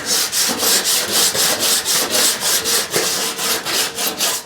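Hand sanding of a body-filler-coated fender on a 1937 Lincoln Zephyr with 36 grit paper, giving steady rhythmic back-and-forth scraping strokes, about four per second, close and loud with no talking.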